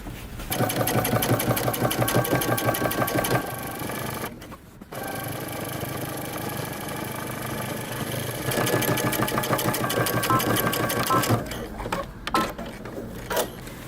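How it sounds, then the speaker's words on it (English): Loud home sewing machine top stitching a second row along the center front of a pair of jeans, running in long steady buzzing bursts with a brief pause near the middle and a stop near the end. "go ahead and create the second row of stitching on your center front"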